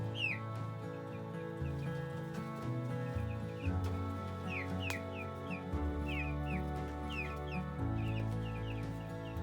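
Chickens cluck and chirp repeatedly at low volume in a food forest, with high peeping calls scattered over a steady background hum.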